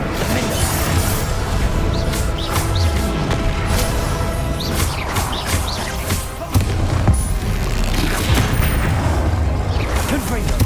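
Spells such as Confringo, Glacius and Incendio are cast in combat in Hogwarts Legacy, giving repeated bursts, booms and crackling blasts over a dense, loud game soundscape, with voices calling out spell names throughout.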